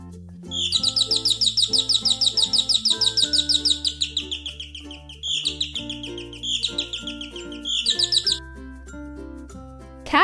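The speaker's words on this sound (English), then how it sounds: "Canary." A canary sings in long, bright trilling phrases, rapid warbles repeating in several bursts with short pauses between them, clear and close, over soft background music.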